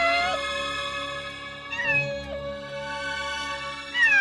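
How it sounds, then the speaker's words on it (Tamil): A cat meows in a long, drawn-out, wavering call, clear and fairly close, with a second short meow right at the end and no talking over it. "என்னடி பூனை சத்தம் கேக்குது?"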